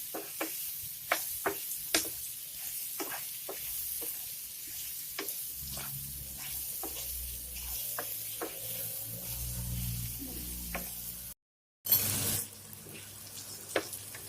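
Bell peppers sauté in oil coated with besan masala, a steady soft sizzle punctuated by the sharp clicks and scrapes of stirring, with a brief cut near the end before the frying resumes.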